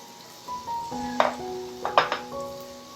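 Rice flour bonda batter sizzles and fries in hot oil, a steady close crackle broken by a few sharp clinks of a utensil against the pan.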